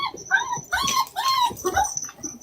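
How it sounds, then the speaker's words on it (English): Dogs whimpering and whining in a recording played back, high drawn-out cries in several bursts with a faint tone behind them, fairly close and clear. "the dogs are like barking and whimpering"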